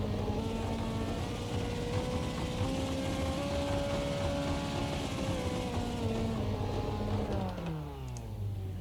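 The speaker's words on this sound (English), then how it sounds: "as I'm flooring the throttle, you hear the revs go up" A Formula Renault 3.5 single-seater engine in the iRacing sim revs steadily upward under full throttle, a loud continuous rising whine that drops away near the end.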